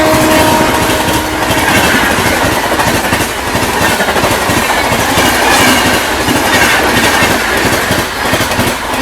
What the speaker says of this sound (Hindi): अपने अमृत भारत एक्सप्रेस को ओवरटेक करने आती हुई 82501 लखनऊ नई दिल्ली तेजस एक्सप्रेस आती हुई भाई पूरी रफ्तार में अपनी